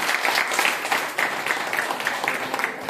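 Loud, steady applause from an audience fills the whole stretch, a dense wash of many hands clapping at close range, with brief bright swells and no clear voices above it.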